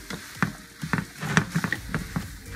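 Black beans and ground turkey stirred in a frying pan, with soft scraping strokes and a faint sizzle repeating in a steady rhythm, close and quiet, without talking.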